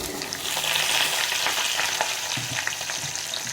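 Dense crackling and sizzling of mustard seeds popping in hot oil, a continuous close spatter with scattered sharp pops.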